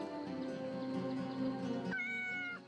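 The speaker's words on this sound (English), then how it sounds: "We can pet the cat." A cat meows in a drawn-out, tonal cry over soft background music in the video game Yes, Your Grace, followed by a second short, higher meow.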